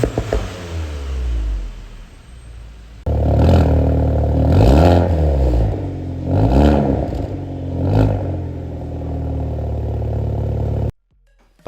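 Exhaust notes of a Hyundai i30N and a VW Golf 8 GTI, heard one after the other: a steady idle drone gives way to loud revving with rising and falling sweeps and sharp blips, then cuts off abruptly.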